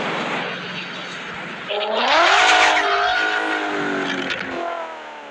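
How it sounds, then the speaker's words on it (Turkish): Car engine revving with tire noise in the Car Parking mobile game, a loud rising engine tone swelling midway and holding steady, with no talk over it. "arabanın sesi doğrusu çok iyi değil"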